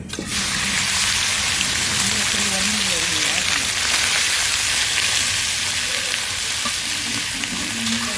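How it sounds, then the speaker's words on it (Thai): Korat-style pork belly stir-fries with garlic and chili powder in a pan, a loud continuous hissing sizzle held close throughout with occasional soft scrapes and a voice talking underneath. "วันนี้จะพัดหมูสามชั้นแบบโคราชนะคะ พัดใส่กระเทียมใส่พริกป่น"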